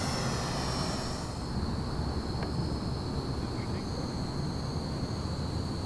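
An H-King Savage Bobber Compact STOL model airplane with a 1000mm wingspan drones steadily in flight, its small motor a continuous, fairly distant hum and whine over outdoor noise, with no talk.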